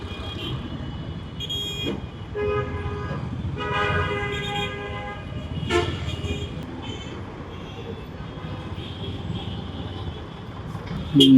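Busy Dhaka street traffic with several car horns tooting in bursts over a steady roadway rumble, close by and fairly loud.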